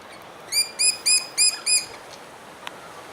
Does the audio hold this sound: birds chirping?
yes